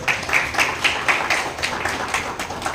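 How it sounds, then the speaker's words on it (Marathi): An audience at a Maharashtrian builders' association event claps in a steady run of sharp, moderately loud hand claps, with no talking over them. "त्यांच्यासाठी सर्वांनी एकदा जोरदार टाळ्या होऊ द्या"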